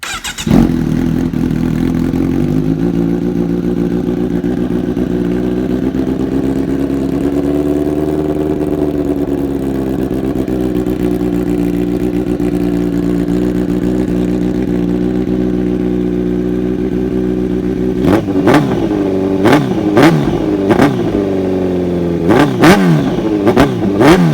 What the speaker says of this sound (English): This will be a cold start with, again, aero headers, SC Project S1 on the Z900.